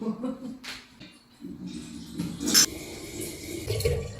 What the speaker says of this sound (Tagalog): Tayo naman ay eh, mag-iinit ng tubig pampaligo.